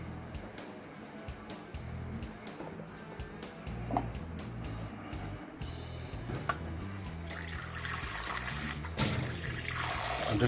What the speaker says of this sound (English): I'm just giving these an extra rinse because they've been sterilised